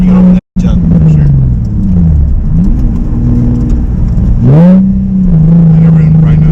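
A drift car's engine revs and accelerates loudly up close, pitch climbing then settling into a steady drone, with a brief cut near the start.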